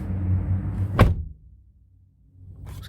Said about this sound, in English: I'm sorry for slamming your door